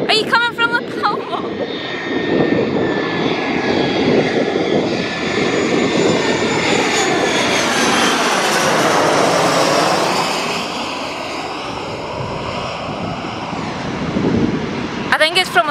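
A fixed-wing airplane flies overhead near Tenerife airport, a loud, sustained engine roar that swells and shifts in pitch as it passes, with people talking throughout.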